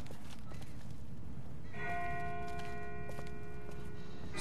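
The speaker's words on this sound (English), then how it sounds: "That's not the same bell as before. This one's further off." A distant bell tolls in The Walking Dead video game, its steady ringing tones entering partway through and sustaining faintly over a low ambient rumble, with no talk.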